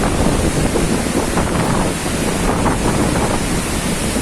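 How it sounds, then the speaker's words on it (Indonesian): Strong wind buffets the microphone in a continuous roar, with crashing ocean surf beneath it at Pulau Merah beach, Banyuwangi, Indonesia, and no voices. "Anginnya gede."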